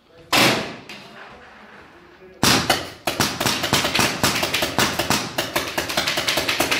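Paintball markers fire in a rapid series of sharp pops at a paintball club in the Almaty mountains: one loud shot, a pause, then a fast run of closely spaced shots, fairly near.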